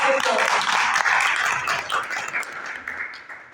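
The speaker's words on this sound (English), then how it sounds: "Please give you a big round of applause." Students and staff applaud at a school morning assembly, a dense burst of clapping that starts loud and gradually thins out and fades.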